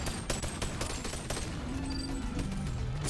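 Turret gunfire in the VR game Boneworks, a continuous rattle of close, loud shots with sharp transients, steady for about three seconds with no talking.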